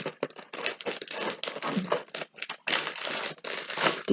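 Crinkling and crumpling of plastic packaging as AliExpress Christmas lights are unwrapped, a close, continuous rustle with irregular bursts and brief pauses, no talking.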